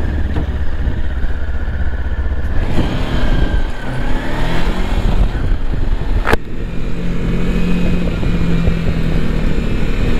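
A Sinnis Terrain T380 adventure motorcycle being ridden on the road, its engine droning loudly and continuously with gear changes and rising revs, heavy wind rush over the rider throughout.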